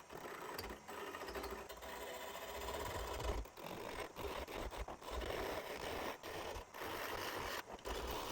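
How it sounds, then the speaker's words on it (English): Wood turning on a Shopsmith Mark V lathe for a crochet hook handle with inlay: a steady mechanical hum with continuous rubbing and scraping of a tool against the spinning wood, broken by short gaps where the cut lets up. "I do all my wood turning on my Shopsmith Mark V lathe"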